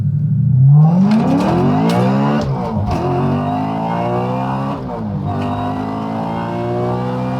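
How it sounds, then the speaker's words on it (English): An Audi S4 accelerates hard through a first-to-fourth gear pull, its engine note climbing steadily and dropping briefly at each of the quick gear shifts, loud and close with no talking. "I'm going to do a 1 to 4th gear pull and log that"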